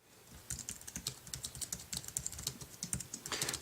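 Rapid typing on an iPad keyboard dock with an iPhone 3G attached, a close, steady stream of light plastic key clicks in quick bursts with no voices.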